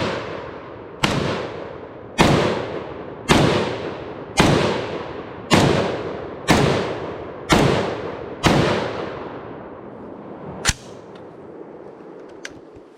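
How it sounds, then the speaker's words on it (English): Swiss SIG SG-751 SAPR (Swiss Arms Precision Rifle) in .308 firing eight loud, sharp shots at a steady pace of about one per second, each with a long decaying ring, followed by one last crack and quiet handling noises. "very first shots out of the SAPR"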